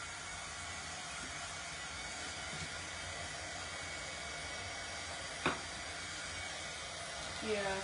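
A hair dryer blows on a small craft project, a steady close whooshing hiss that runs the whole time with a couple of faint clicks and handling noises, no talk over it.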